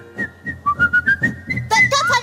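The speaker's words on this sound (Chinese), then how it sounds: "因为呢，吹口哨呢，你的嘴爱尖，而且呢，那个孔洞要刚刚好" Someone whistles through pursed lips: a string of short, clear pitched notes, close and fairly loud, rising into a brighter, more forceful burst near the end.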